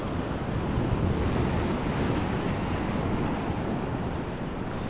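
Stormy sea waves pound a rocky shore at Mahmutlar, Turkey, a loud, unbroken roar of surf with heavy wind buffeting the microphone throughout.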